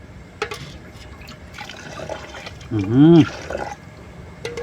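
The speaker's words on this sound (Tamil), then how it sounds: "சிக்கன் போட்டாச்சு தண்ணி ஊற்றிப்போம் வேகிறதுக்கு" Water poured into a pot of chicken curry cooking outdoors in a village setting, a short gurgling splash rising in pitch as the pot fills, heard near and brief amid quiet background noise.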